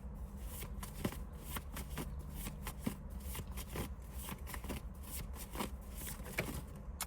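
A deck of tarot cards is shuffled repeatedly during a reading, giving quick riffling and flicking bursts in a steady, close rhythm with no talking.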